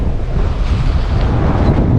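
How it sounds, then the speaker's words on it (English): Strong gusts of a windstorm batter the microphone while fishing from a bridge, a loud, continuous low roaring rumble with no voices. "Oh my God, it's windy."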